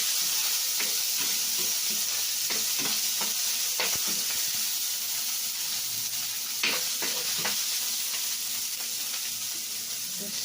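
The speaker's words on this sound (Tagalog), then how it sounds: "Lagyan natin ng udong na may sabaw ang ating isdang prito." Leftover fried fish sizzling in a pan as noodles with broth are added, a steady close frying hiss with scattered crackles and stirring clatters throughout, no talking.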